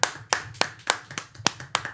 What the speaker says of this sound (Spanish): un aplauso al Javier